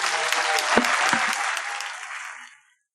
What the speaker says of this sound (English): can we give the panel a fantastic applause